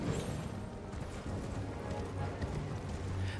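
Horse hooves clip-clop steadily in the game Elden Ring, a continuous rhythmic trot under game ambience, fairly close and moderately loud.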